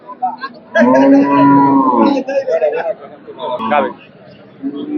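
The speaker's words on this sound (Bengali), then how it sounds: "আমরা এখানে আরো একটি গাভী দেখছি" A pregnant-for-sale dairy cow gives a loud, drawn-out moo close by at a cattle market, with people talking and a busy crowd murmuring around it.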